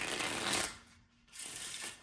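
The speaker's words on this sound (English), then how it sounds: "And we'll give this one more shuffle" A deck of cards for the board game Roma XLI being riffled and shuffled close by, a papery rustle that pauses briefly and then resumes.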